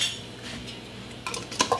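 Glass canning jars of blueberries are set down into a metal water bath canner, giving a few close clinks and knocks of glass against metal near the end of a short, quiet stretch, with no voices.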